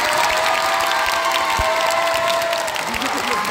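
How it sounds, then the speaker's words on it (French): An audience cheers and claps loudly for a dancer after a performance, the applause dense and continuous, with a voice and a sustained tone carrying over it. "Est-ce que vous pouvez l'applaudir très fort pour son magnifique travail?"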